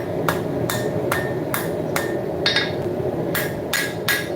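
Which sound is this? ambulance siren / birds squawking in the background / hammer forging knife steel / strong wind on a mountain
hammer forging knife steel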